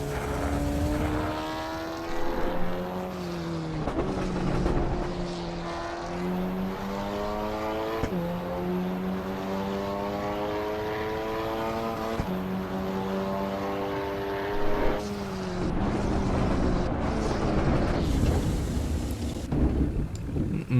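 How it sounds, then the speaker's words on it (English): Car engines in the racing games Assetto Corsa EVO and Forza Motorsport rise and fall through repeated gear changes, each sweep of revs climbing before dropping at the shift, with a few louder bursts along the way. "ACE has much better engine sounds than Forza does"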